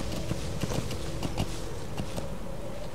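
Horse hooves clip-clop steadily at a walking pace in Metal Gear Solid V: The Phantom Pain, a game ambience hum running underneath with no talk.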